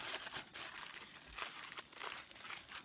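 Tin foil crinkles and crumples close up as it is folded around a potato at a campsite, a steady run of dry rustling bursts with no talk.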